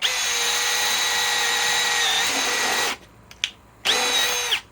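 A Milwaukee M12 Fuel cordless drill with a 5 amp battery whirs loudly and steadily for about three seconds, stops with a couple of brief blips, then spins up again near the end.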